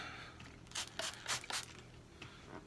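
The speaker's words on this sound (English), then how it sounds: "spray a little Windex. We're going to clean the surface." Windex glass cleaner sprayed onto a mirror surface, a few short hissing bursts in quick succession at close range over a quiet low hum.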